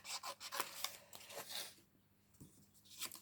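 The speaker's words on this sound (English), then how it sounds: "So we're just going to very carefully use our scissors to just cut around." Scissors cutting carefully around stamped paper leaves for a handmade card, giving close, soft rasping snips and paper rubs in a quick irregular run that pauses briefly, then resumes.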